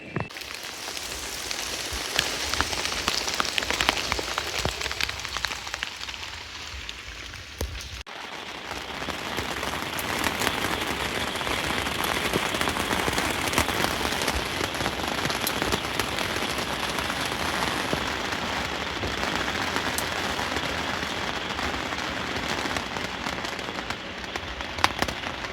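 Steady rain pelts surfaces at a campsite, a dense continuous patter close by, with a brief shift in texture partway through before the downpour continues unbroken.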